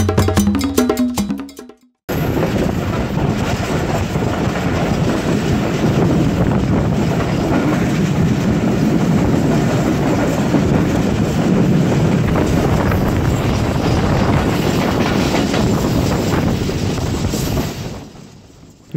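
A passenger train runs steadily on the tracks through a sharp turn after crossing the Mehran Bridge, its loud continuous rumble and track noise filling the clip, with wind buffeting the microphone before the sound cuts off near the end.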